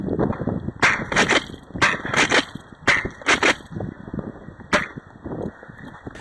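An airsoft shotgun fired during a skirmish at a fort, giving sharp, snappy pops in quick clusters of two and three over steady rustling and movement noise, fairly loud and close.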